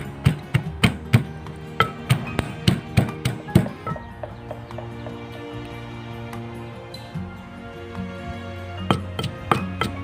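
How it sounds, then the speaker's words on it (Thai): Fresh chili and garlic pounded with a pestle in a mortar, sharp regular thumps in quick runs, then a pause and a few more strikes near the end, with a low steady tone beneath. "เราก็ใส่พริกสดลงไปนะคะ แล้วก็ใส่ นี่ค่ะกระเทียมนะคะ แล้วก็โขลกค่ะ"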